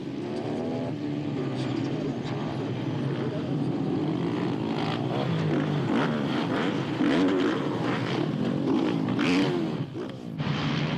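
Supermotard motorcycles race at Lohéac in a French championship round, a pack of engines blaring and revving together at the start, with rising and falling whines as bikes pass and a French commentator talking over the din.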